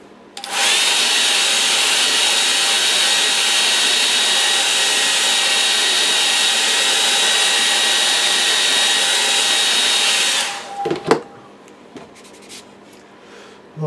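A hair dryer blows loudly and close over a watercolour painting of a cottage, a steady roaring whoosh lasting about ten seconds before it switches off, followed by a few faint handling clicks.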